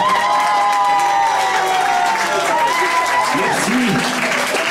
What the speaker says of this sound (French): Bravo, vous pourriez applaudir plus fort que ça.